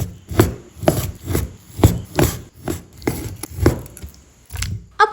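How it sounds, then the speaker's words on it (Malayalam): A knife cuts chicken breast into small pieces on a cutting board. Around ten rhythmic, close chopping strokes follow one another steadily, with no talking. "അപ്പോൾ ചിക്കൻ ചെറിയ ചെറിയ പീസസ് ആയി കട്ട് ചെയ്ത് ബൗളിലേക്ക് മാറ്റി കൊടുത്തിട്ടുണ്ട്."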